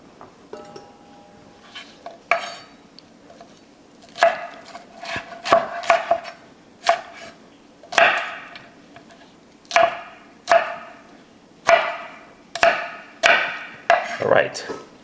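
Knife chopping shrimp into smaller pieces on a cutting board for Southern shrimp and grits, with about a dozen sharp, evenly spaced cuts standing out clearly against quiet background.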